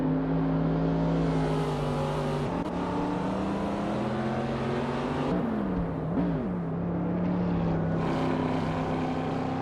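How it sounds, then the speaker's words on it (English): Cars race in an AI car racing video game, their engines droning loudly and continuously with rising and falling pitch as they pass close, with no voices over the engine noise. "The cars are racing close"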